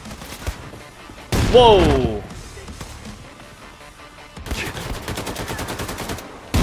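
Gunfire in the video game Wolfenstein II: The New Colossus, with bursts of rapid shots near the start and a dense run of repeated rapid-fire shots toward the end, while a man exclaims over the action.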